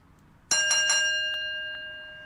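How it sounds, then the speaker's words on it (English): A small bell struck once to begin a round of the Final Girl board game, a bright metallic ding with a few quick repeated strikes, ringing tones that decay slowly in a quiet room. "Ring the bell."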